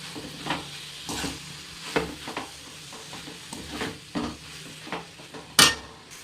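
Grated beetroot being stirred into cooked tomatoes in a home kitchen pan, with a spoon scraping and clacking against the pan in irregular strokes over a soft background sizzle, plus one sharp louder clank near the end.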